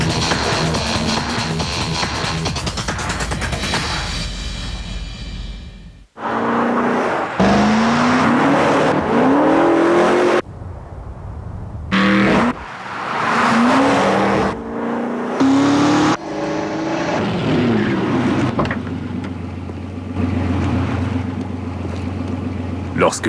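Indy race cars scream past at the Molson Indy Vancouver 2004 street race, loud engine notes rising and falling in pitch with abrupt cuts between passes; a voice talks briefly near the start.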